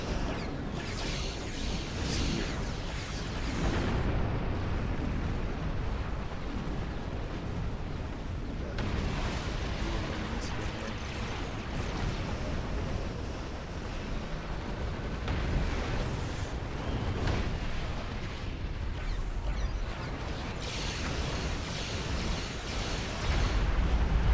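Ships explode in Star Trek Online space combat as a long stretch of heavy booms and rumbling blasts, dense and loud, swelling in repeated waves with whooshing bursts between them.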